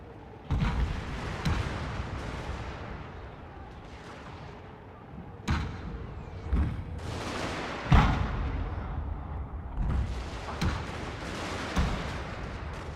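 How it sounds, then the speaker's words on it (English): Naval guns firing in the Shogun 2: Fall of the Samurai strategy game, heavy booming artillery blasts going off in irregular bursts, some near and loud, others rumbling farther off, with no speech. "Let the naval guns do their thing."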